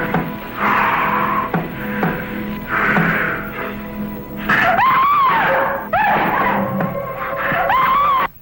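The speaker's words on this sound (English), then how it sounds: "Why is she screaming?" A woman in a 1950s film, Phantom from Space, screams repeatedly in loud, drawn-out wails, several cries in a row with brief pauses, close and piercing over background noise.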